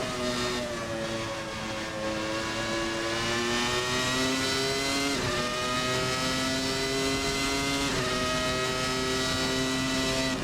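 A Williams FW19 Formula One car in a racing video game, its engine howling steadily at high revs flat out, with a couple of brief dips as gears change, loud and close.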